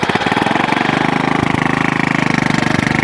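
A moped engine runs at a rough, rapid idle, a loud steady putter of fast regular pulses heard up close, with no talking.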